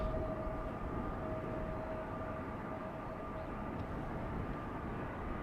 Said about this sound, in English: looks like another A330 coming this way